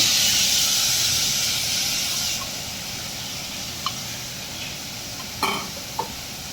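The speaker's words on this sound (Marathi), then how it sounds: "मसाले चांगले परतून घेऊ।" Spices and soaked chana dal are sautéed in a pan for a drumstick curry. A loud hiss and sizzle dominates early, then settles into a quieter frying crackle, with a few brief utensil clinks near the end.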